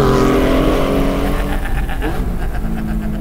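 A Porsche Spyder's 4.5-litre engine revs hard on a canyon drive, a loud, close, droning roar that sweeps up through the gears with a brief shift dip midway.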